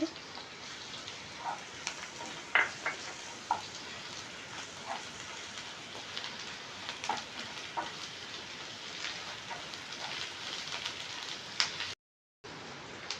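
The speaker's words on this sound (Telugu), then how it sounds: "ఆనియన్ బాగా ఎర్రగా వేయిందండి ఇప్పుడు అల్లం వెల్లుల్లి పేస్ట్" Onions with ginger garlic paste fry in a pan for egg curry, giving a steady, soft sizzle with scattered small pops and crackles throughout, close but fairly quiet.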